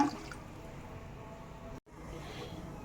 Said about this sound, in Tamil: இன்னும் கொஞ்சம் கூட தண்ணி சேர்த்துக்கலாம்